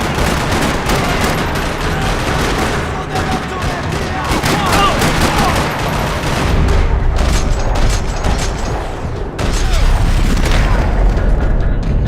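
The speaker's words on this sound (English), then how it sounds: "Another parking lot rattling with gunfire." Heavy gunfire in a parking lot in the video game Max Payne 3, dense bursts of automatic fire and booming shots overlapping continuously, loud and close, with voices mixed in.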